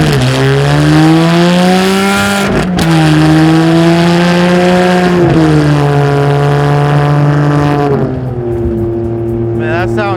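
A custom Ferrari 612 V12 with a stainless titanium exhaust revs loudly and close, its pitch rising and falling in sustained pulls with brief dips between, while people talk over it.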